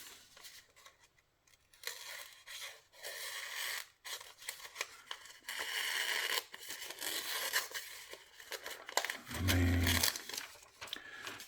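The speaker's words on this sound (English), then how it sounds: "Let's see if we can get through some phone book paper." A titanium carbon fiber folding knife with an S35VN blade slicing phone book paper, giving soft, quiet scraping and crinkling strokes in short repeated bursts, with a louder tearing pass near the end.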